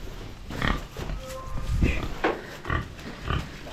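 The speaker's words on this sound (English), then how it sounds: "Past the pigs. So hello pigs." Pigs grunting on a farm, several short low grunts and snorts close by in an irregular rhythm over outdoor background noise, with a faint brief whistle-like tone.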